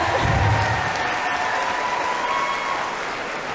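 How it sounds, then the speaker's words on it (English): Applause from a commencement ceremony audience, a broad wash of clapping from a large crowd in a hall, steady and fairly loud, easing off slightly toward the end. "Please give her a round of applause."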